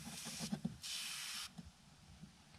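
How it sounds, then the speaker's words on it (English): Short hiss of battery cleaner sprayed from an aerosol can onto car battery terminals, a single close burst of about half a second, faint overall, with light handling clicks around it. "we're just going to spray that on there"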